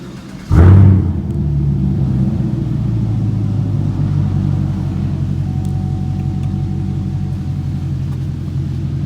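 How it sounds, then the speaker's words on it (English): A Chevrolet Camaro engine, sitting under an awning, bursts into a loud close rev, then settles into a steady deep idle rumble that carries on alone to the end. "I'll end this video with a rev under this awning here"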